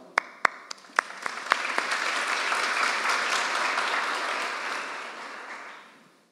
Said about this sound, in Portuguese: Vamos bater palma?